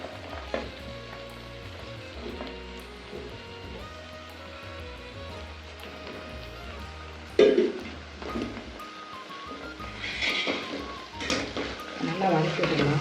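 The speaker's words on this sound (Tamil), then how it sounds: "நல்லா வதக்கி விட்டுடலாம்." Shredded cabbage and kohlrabi sautéing in oil in a kadai, giving a steady soft sizzle with occasional stirring clatter and scraping; a voice talks over the cooking in places.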